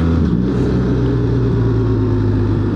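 A 2025 BMW R 1300 GS motorcycle engine drones close and loud on a Pennsylvania road, a steady low rumble with a slight rise early on, alone without talk.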